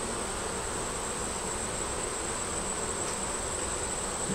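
Honey bees swarm around an open hive after a hot month, producing a steady, dense buzzing hum that carries on evenly at moderate loudness throughout, with no voices.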